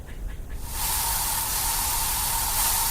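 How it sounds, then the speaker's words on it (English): A spray-paint can in the video game I Am Future releases a steady, loud hiss that starts abruptly after a brief quiet moment and holds without a break. "if we go and spray paint that"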